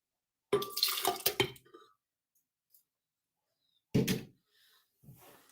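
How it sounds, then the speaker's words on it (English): One cup of soaked oatmeal poured into a blender makes a wet, sloshing pour lasting about a second, then a pause and a brief second splash or clunk, close by in a quiet kitchen. "So I already soaked the oatmeal, and this is 1 cup. And I'm going to pour that in the blender."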